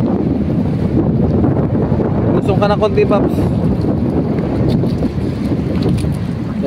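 Strong wind buffets a microphone outdoors, a loud, continuous rushing roar. A voice speaks briefly partway through.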